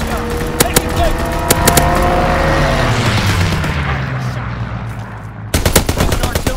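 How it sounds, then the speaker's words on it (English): A fighter plane strafes the ground in Call of Duty: WWII, with a roaring engine sweep and rapid bursts of gunfire. The shots are loud and near, and voices are heard under them. "Fighter pilot inbound. Strafing the target."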